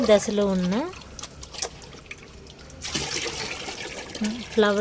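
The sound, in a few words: pouring liquid fertilizer onto a bean plant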